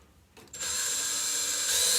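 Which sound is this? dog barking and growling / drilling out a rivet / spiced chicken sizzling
drilling out a rivet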